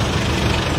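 Idling engines drone in a traffic jam near a Miri market before Hari Raya, a dense low rumble that holds steady through the short moment.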